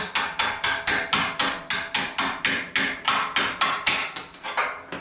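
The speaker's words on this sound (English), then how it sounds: "I use a little punch just to whack the bolts through." A hammer strikes a small punch to drive frame bolts through on a vehicle's rear frame, about fifteen sharp metallic blows in a fast, regular rhythm, loud and close, with no talking.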